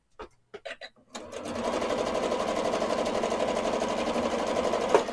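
After a few soft handling knocks, a small-throated sewing machine runs steadily stitching through a quilt, a close, even mechanical whir with rapid needle ticking, continuous to the end.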